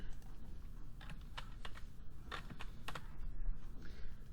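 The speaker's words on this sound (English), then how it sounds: "typing this out is probably going to be the hardest part" Quiet, irregular clicking of keys on a computer keyboard, bursts of taps separated by short pauses, close by over a faint room hum.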